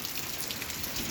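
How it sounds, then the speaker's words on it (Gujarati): Steady rain pours down in Chhara village during the Gujarati monsoon, a dense continuous hiss of drops spattering on surfaces, close and even throughout with no voices. "અત્યારે વરસાદ ચાલુ છે ભાઈ."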